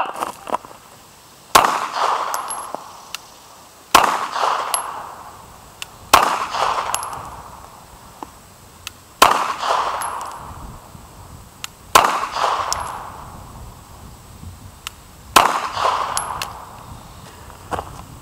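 Handgun shots in a 7-yard target drill at a shooting range, heard as sharp, loud, close reports that arrive in quick pairs and triplets with pauses of a few seconds between groups, each crack ringing out briefly.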